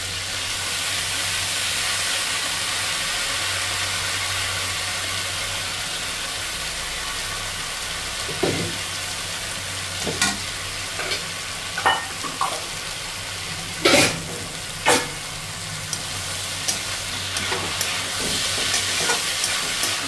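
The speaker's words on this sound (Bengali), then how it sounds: "এবারে দিয়ে দেবো সেদ্ধ করে জল ঝরিয়ে রাখা মোচাগুলোকে।" Boiled, drained banana blossom is stir-fried in a pan under a constant close sizzle. Partway through, a run of irregular spatula scrapes and knocks joins the sizzle.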